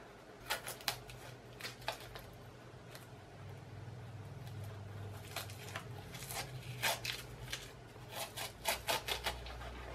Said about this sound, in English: So I'm gonna go ahead and take the tape off.